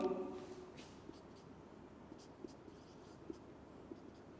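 Marker or chalk strokes on a board during a chemistry lecture give faint, sparse scratching taps spaced through a quiet room, with a brief voice at the start.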